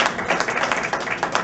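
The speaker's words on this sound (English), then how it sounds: "Give the Lord a round of applause, somebody." A church conference audience claps in a burst of applause, dense rapid hand claps close by for a brief moment, with voices mixed in.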